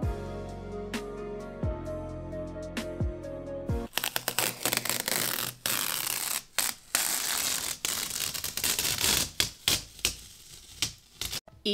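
Masking tape being peeled off a freshly painted wall during a dressing room makeover, a close, steady crackling rip with rapid sticky clicks, following a few seconds of plucked music.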